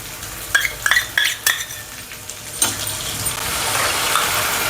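Ginger-garlic paste goes into a frying pan for a Kolhapuri misal, several sharp spoon taps against the pan rim giving way to a steady, close sizzle of hot oil.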